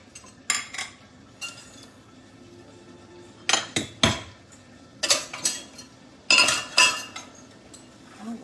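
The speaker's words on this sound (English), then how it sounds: "I'll get my little bowl out here." Ceramic bowls and dishes clatter and clink in a home kitchen, several sharp knocks and scrapes arriving in short bursts with quiet gaps between, close and fairly soft, with no talking.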